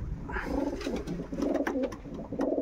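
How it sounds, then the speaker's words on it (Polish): Pigeons in a loft coo close by in soft, repeated rolling phrases, with several overlapping calls and no voices. "Matka wielu super gołębi."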